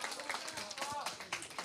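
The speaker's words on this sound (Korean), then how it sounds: "와 박수." Audience applause breaks out during a high school group's church worship service, a short scattered patter of clapping mixed with cheering and talk in the room.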